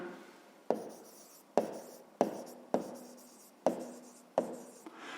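Pen strokes on paper while working a fifth-grade math exercise, six distinct scratchy writing bursts in a steady rhythm, close and fairly quiet, with no talking.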